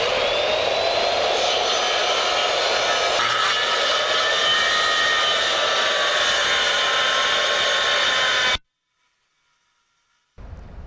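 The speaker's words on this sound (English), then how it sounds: "and now I'm just going to rip my board." A power saw rips lengthwise through a fascia board during a rotten-fascia repair, a loud steady whining cut lasting about eight seconds, then silence before the motor briefly starts again.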